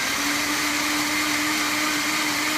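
A blender runs on high, whirring loud and steady as it purées nuts into a smooth vegan cheese sauce for oil-free mac and cheese.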